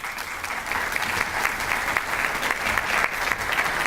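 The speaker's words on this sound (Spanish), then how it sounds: "La recibimos con un fuerte aplauso, por favor." An audience gives sustained, dense applause in a lecture hall to welcome a cancer researcher, loud and steady throughout with no voices over it.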